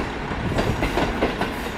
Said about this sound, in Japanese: 室蘭本線に乗ります。